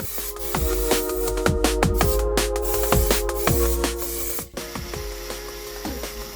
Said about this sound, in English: So all that bare metal is now getting a lick of paint with the old etch primer.